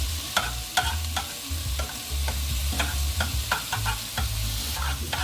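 Shrimp sizzling in a pan for Jamaican creamy curry shrimp pasta, a constant fry hiss broken by repeated utensil scrapes and clicks as the shrimp are stirred, close and clear.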